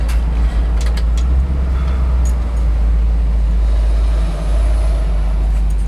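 A 1963 Chevrolet Impala with the 409 engine driving on the road, a loud deep continuous engine rumble with road noise and a few brief clicks inside the cabin.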